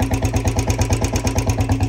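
A Royal Enfield Bullet BS6 motorcycle engine runs steadily close by, its deep, even thump repeating in a fast rhythm throughout, with no voices.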